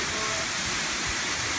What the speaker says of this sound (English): the waterfall in all of its glory. Absolutely huge.